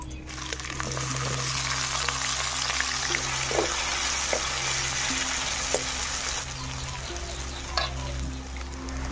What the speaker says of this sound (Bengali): 10-15 সেকেন্ড নেড়ে নেওয়ার পর আমি এবার দিয়ে দেব পেঁয়াজ।